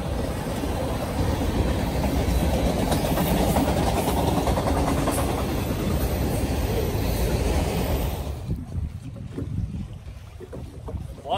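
Train passing over a bridge where fishermen catch trout, a loud continuous rumble with rhythmic clickety-clack that cuts off abruptly near the end, leaving quieter background sounds.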